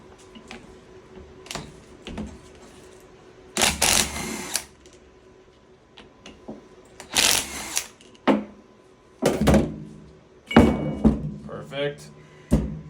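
An impact wrench removes ring gear bolts in a workshop, firing several short, loud, rattling bursts separated by pauses, with a person talking and light clanks of tools between bursts.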